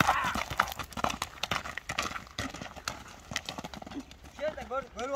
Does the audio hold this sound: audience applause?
no